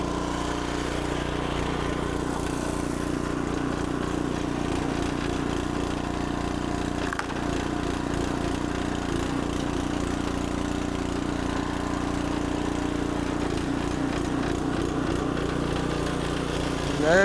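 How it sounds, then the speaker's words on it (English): A warm small engine runs continuously with the throttle turned up, a steady close drone with a brief dip partway through. "it's still warm, so it probably fire right off. And I can turn the throttle up."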